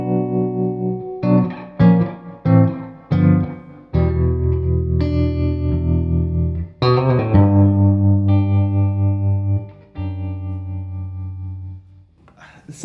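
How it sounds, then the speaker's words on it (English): Electric guitar, a Fender Broadcaster played through a Suhr Hombre, with tremolo and reverb: strummed chords and held notes pulse steadily with a wobbling volume, ringing out close and loud with a washy tail, no talking. "Put the tremolo on."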